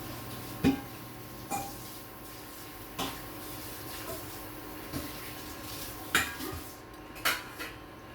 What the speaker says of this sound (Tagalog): mag-ahugas sa atong mga ginamit na plato